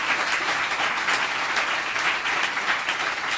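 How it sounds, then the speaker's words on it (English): An audience at a women in sports business symposium applauds the panelists, a dense, even burst of many hands clapping at once, loud and sustained without talk. "a final thank you to our panelists. You guys are fantastic. So if I can get a round of applause."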